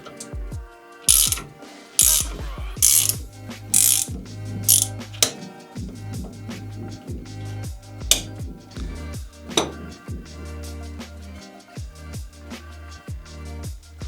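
An iCrimp IWS-18 PEX crimping tool for 1 to 2 inch copper rings being ratcheted clockwise, giving a steady series of sharp clicking ratchet strokes with metallic clanks, close and alone.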